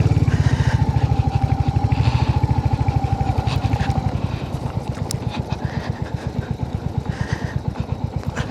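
Motorcycles riding along a rough, stony road, a close, loud engine putter with a fast, even pulse and a rising whine partway through, the rumble continuing steadily with clattering over the bumpy surface.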